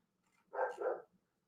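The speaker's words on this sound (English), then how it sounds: "It's not very often that the neighbor's dog is barking so late at night." Neighbor's dog barking at night, heard from outside: a quick double bark, faint and distant, over near silence.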